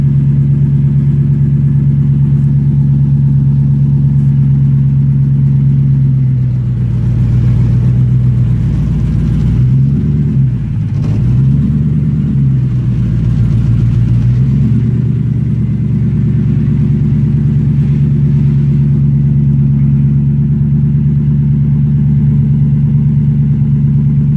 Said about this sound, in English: I've got to back out in between the trailer and turn this car around.